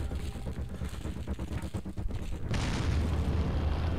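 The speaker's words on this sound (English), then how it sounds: "I think I'm gonna use my grenades up at this point." A grenade goes off in Resident Evil 4 as a deep boom, followed by a heavy, sustained rumble that fills the rest of the moment, with no talk over it.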